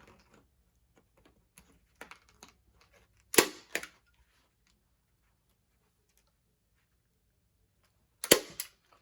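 A staple gun fires staples through canvas into a wooden frame, two sharp close snaps in quick succession and then two more a few seconds later, amid faint handling noises.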